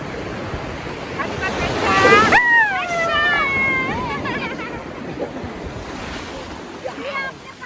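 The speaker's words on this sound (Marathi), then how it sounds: "आता आम्ही चाललो आहे बीचवरती" Steady wash of surf rolling on the shore at Juhu Beach, with a cat meowing several times over it and light wind noise on the microphone.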